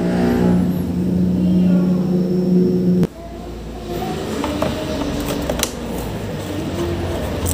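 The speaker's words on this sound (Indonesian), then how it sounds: "Ini starternya nyala dengan aki seperti ini" A car engine is cranked by a battery-powered starter during battery servicing, giving a steady loud mechanical whir that cuts off abruptly, then a rougher running rumble with scattered clicks and rattles.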